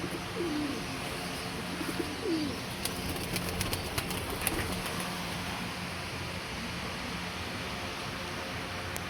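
Pigeons coo softly a couple of times against a steady outdoor hiss, with faint flutters and light taps scattered through.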